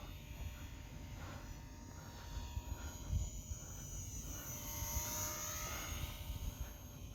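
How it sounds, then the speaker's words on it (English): The small electric motor of an Eachine 400mm T-28 RC model airplane whines overhead as it flies past, rising and falling in pitch over faint outdoor background noise. "it's the sound of the motor that makes it feel fast"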